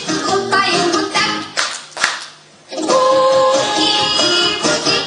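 Small children clap their hands in rhythm during a boogie-woogie dance, crisp repeated claps over lively music, with a brief quieter dip midway before the beat returns loud and close.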